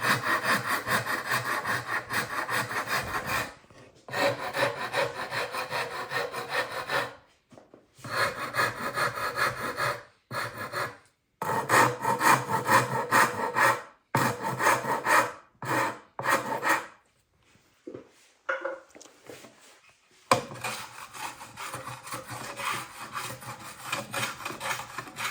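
Rasp and plane working wood into cello ribs: bursts of coarse, scraping strokes in quick rhythmic runs, broken by short pauses, close and fairly loud with no voices.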